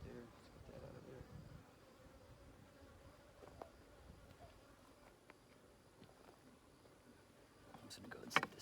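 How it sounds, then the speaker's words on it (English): Honeybees buzz softly around an opened brood chamber during a spring hive inspection, a faint continuous drone with occasional closer passes and light handling noises of frames. "See that bee right there?"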